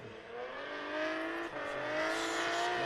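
A drift car with a VG30 DET engine crosses the line in a British Drift Championship qualifying run at Three Sisters, engine howling at high revs with rising pitch, fairly distant over a whirring background.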